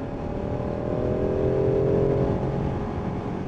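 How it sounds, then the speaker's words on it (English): A Ducati 959 Panigale motorcycle engine runs steadily with a smooth, even hum that swells slightly mid-way as the throttle rises and then settles, loud and close with no talking. "The engine's really smooth."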